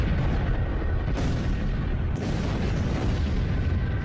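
A fireball exploding above Siberia's Tunguska forest, rendered as a loud, continuous rumbling blast with deep booming surges and no voices.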